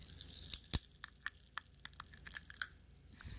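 Popping candy is crunched and chewed up close, a quick run of sharp crackles, pops and bites, faint and intimate with no talking.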